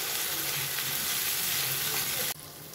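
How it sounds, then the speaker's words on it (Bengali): Spice paste for Bengali steamed eggs (dim bhapa) sizzles steadily in hot oil as it is cooked down, a dense continuous frying hiss that drops off abruptly near the end. "3 মিনিট এটাকে ভালো করে কষাতে হবে।"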